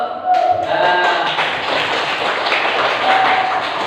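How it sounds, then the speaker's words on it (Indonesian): Classroom students clapping for one another, a dense, steady patter of many hands lasting throughout, with a few faint voices mixed in. "coba sekarang kita saling kasih aplaus"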